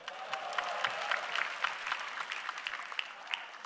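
Steady audience applause for a stand-up comedian in an Indonesian comedy competition: a dense, even patter of many hands clapping throughout, moderately distant and unbroken.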